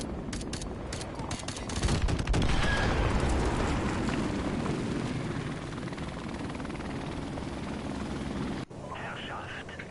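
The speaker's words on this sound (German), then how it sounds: "Feindlicher Helikopter im Anflug." In Call of Duty Modern Warfare Remastered, an enemy helicopter's rotor roar builds loudly and steadily, mixed with bursts of gunfire and distant battle noise, continuing almost without a break.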